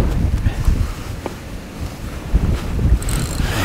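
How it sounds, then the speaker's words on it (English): Strong wind buffets the microphone at Decoy Lakes during a live feeder fishing match, a loud, gusty, low roar that surges and eases throughout, with no clear talk. "It's wind and we've got it tomorrow."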